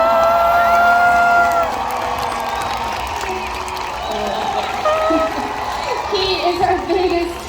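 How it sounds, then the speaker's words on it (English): A SeaWorld orca show crowd cheers and whoops, children's shouts and applause rising loud at first, then settling into a busy murmur of excited voices. "he loves it when you guys give him a nice big cheer"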